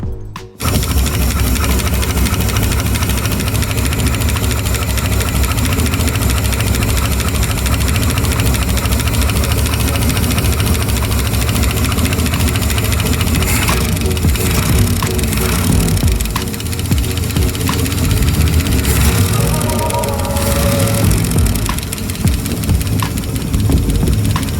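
A Lincoln Continental engine with a valve-tick fault idles with a valve cover removed. It gives a loud, close, steady mechanical drone with fine rapid ticking running through it, unbroken for over twenty seconds.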